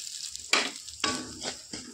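Rice flour frying in ghee in a wok gives a soft sizzle with a few sharp scraping stirs, close and fairly quiet, with no talk.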